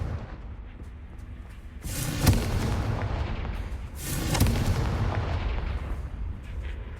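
Two booming Confringo spell blasts from Hogwarts Legacy go off a couple of seconds apart, each a sharp, loud crack followed by a rolling low rumble, with no talk.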